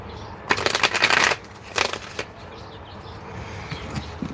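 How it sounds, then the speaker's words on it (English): A deck of cards is shuffled for a tarot-style reading: a close, rapid riffling burst of about a second, then a shorter second riffle, followed by quiet handling noise. "I'm going to shuffle these."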